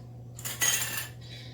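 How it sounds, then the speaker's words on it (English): Cleaned metal canning jar lids, readied for jars of spicy Creole sauce, clink and rattle lightly together in a short, quiet burst of metallic taps, with a thin ring at the end. "These are lids, which are cleaned and ready to go."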